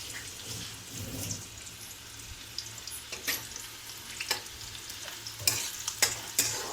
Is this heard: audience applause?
no